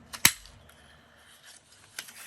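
Scissors snip through glued paper while cutting a circle, one sharp close snip followed by a few fainter cuts in a quiet room.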